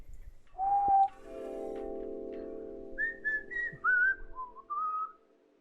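A person whistles a short tune of rising and falling notes, close and clear, after a steady low tone, with no talking.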